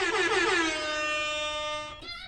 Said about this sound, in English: We definitely got to throw some air horns up for that.